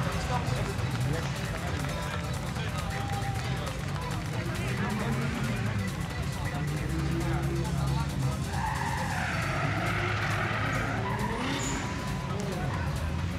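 A drift car at a drift show spins out, its tires skidding and squealing over a continuous engine roar. The sound is loud and sustained under crowd noise and commentary.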